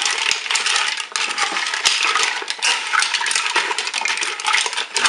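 Mussels being stirred in the pot of a Cookeo multicooker, a steady clattering rattle of shells against the metal bowl, close and fairly loud, with no talking.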